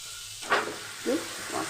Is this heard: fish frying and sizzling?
yes